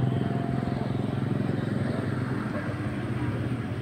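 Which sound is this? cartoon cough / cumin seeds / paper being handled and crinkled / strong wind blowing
strong wind blowing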